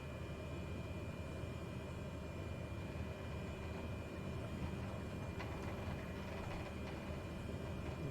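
A steady, low drone from a light airplane engine in flight in Microsoft Flight Simulator, approaching runway 15 in South Africa, holds constant and moderately faint, with no voices.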